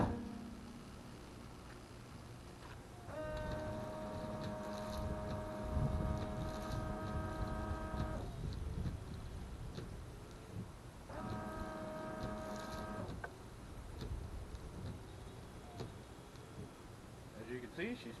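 Electric washer fluid pump on a 2012 Toyota Tundra runs in two bursts, each a steady whining hum lasting several seconds, with spraying under it and a quiet idle-like background between them.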